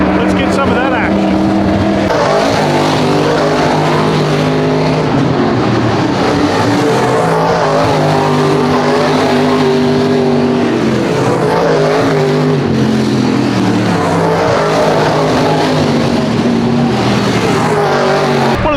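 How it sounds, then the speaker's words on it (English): B Modified race cars roar around a half-mile dirt track during a hot lap session, engines loud and continuous with pitch rising and falling as they pass and circle, no talk heard over them. "we've got the B Modifieds coming out for their hot lap session"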